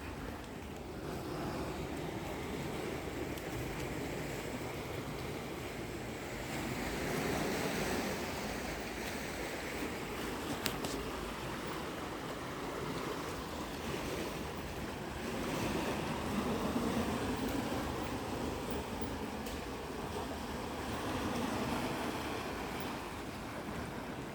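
Ocean waves wash and surge at Om Beach, a continuous soft roar of surf with gentle swells and some wind buffeting the microphone, fairly faint and without voices.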